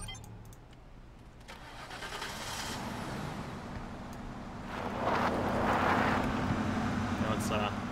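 A starter vehicle in the video game Entropia Universe drives along with a steady, low engine hum that swells louder toward the end, accompanied by faint voices.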